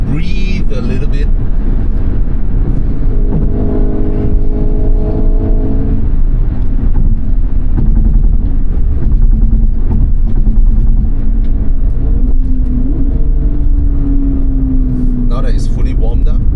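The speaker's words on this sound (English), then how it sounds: "super kick down after the toll, just to let the car breathe a little bit" A car pulling away hard from a toll booth on a kick-down, its engine note climbing steadily under a constant road drone, with a rising tone near the end.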